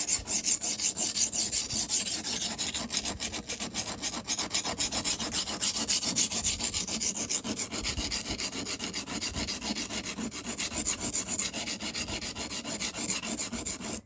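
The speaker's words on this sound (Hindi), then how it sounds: "आपने छुरी इस तरफ पलट लेनी है, इस तरफ भी आपने यही रगड़ने वाला काम करना है" Steady, continuous rasping strokes of a kitchen knife rubbed back and forth during sharpening at home, close and fairly loud without pause, with no talking.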